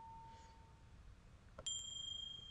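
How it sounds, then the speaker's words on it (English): Bell sample from a bowls instrument app, a single soft ding struck and left ringing with a faint sustained tone, quiet and alone over a low hum. "These are the bells."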